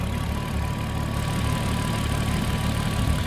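A turbocharged VR6 car engine idles with a steady, low, even rumble and a faint constant whine, close and loud, with no talking.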